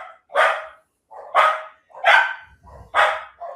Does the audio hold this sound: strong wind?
no